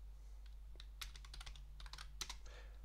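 Keys clatter in quick irregular bursts as a command is typed on a computer keyboard, close and crisp, with a low steady hum beneath.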